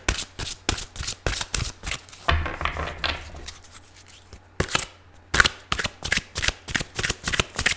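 Rapid riffling bursts of a tarot card deck being shuffled close up, repeating in quick runs with a softer sliding, rubbing pause in the middle.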